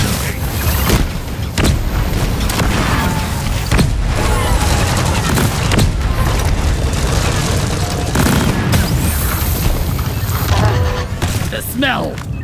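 Sticky grenade explosions and gunfire in a four-player co-op mining mission in Deep Rock Galactic, with loud continuous combat noise, repeated booms and crackling shots, and in-game voices shouting over the din.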